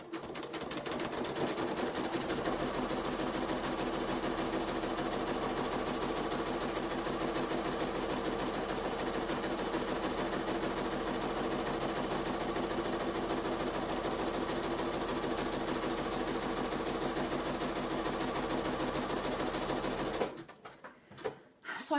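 A sewing machine runs steadily through a continuous zigzag stitch for about twenty seconds, a close, even mechanical whir with rapid needle rhythm, stopping abruptly near the end.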